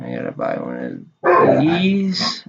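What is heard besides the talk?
dogs barking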